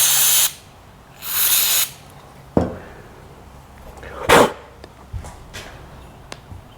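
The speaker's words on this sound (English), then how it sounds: "Now I'm going to go more spray." Short bursts of aerosol cleaner hiss into an engine carburetor, two long sprays then a few brief spurts, mixed with small clicks and knocks from handling the parts.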